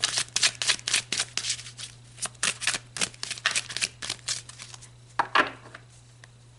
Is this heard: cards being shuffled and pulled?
yes